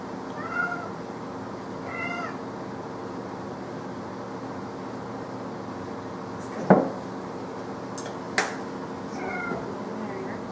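A cat meows a few times at moderate volume in a veterinary setting, with a couple of sharp clunks and voices in the background.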